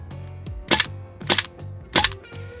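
A Double Bell G17L airsoft gas pistol fires three loud, sharp, close shots about half a second apart, each a gas pop followed by the heavy slide clacking back and forth.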